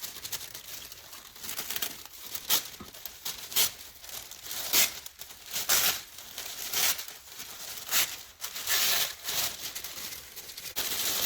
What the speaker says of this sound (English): So I'm just going to tear it in half.